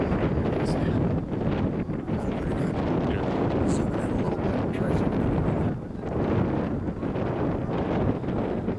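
Strong, steady wind roars across the microphone during a high-wind test of an Opale parachute, with a continuous broadband rush that dips briefly near the middle before building again.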